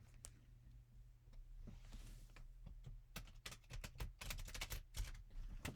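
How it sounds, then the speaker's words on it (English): Playing cards shuffled one last time after being flexed to even them out, giving a faint ripple of quick crisp flicks that builds into denser riffles toward the end, with no talk. "shuffle one last time"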